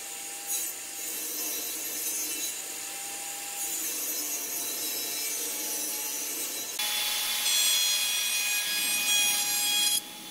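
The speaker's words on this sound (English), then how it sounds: "here we are back to the table saw again. Cut a load of strips of wood about a quarter of an inch thick." A table saw rips thin strips of wood about a quarter of an inch thick, a steady whining cut that runs continuously, close and fairly loud, with the pitch shifting as each strip feeds through.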